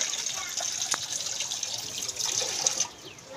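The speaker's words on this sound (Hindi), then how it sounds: "मैं क्या चावल धो के रख लेते हैं" Rice washed in water: a close, continuous splashing and running-water wash with small sloshes, lasting a few seconds before dropping off.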